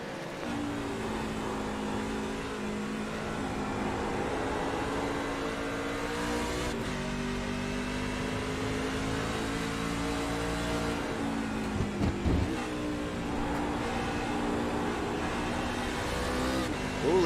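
Racing truck engines drone continuously in an iRacing truck series race, a steady buzzing roar whose pitch rises and falls as the trucks accelerate and ease off.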